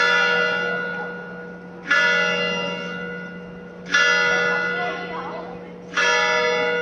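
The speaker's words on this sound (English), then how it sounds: "let's enjoy my favorite, church bells." Church bells ring out in Ortigia, Siracusa, Sicily, with three loud resonant strikes spaced about two seconds apart, each leaving a long humming decay over a steady low drone.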